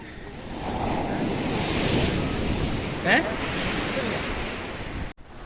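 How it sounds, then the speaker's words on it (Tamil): Ocean waves wash onto Kappad beach in Calicut, Kerala, a continuous broad surf roar mixed with wind buffeting the microphone, fairly loud and steady throughout. "ரொம்ப அருமையாக இருக்குது பீச்சு. ரொம்ப க்ளீனாக இருக்குது."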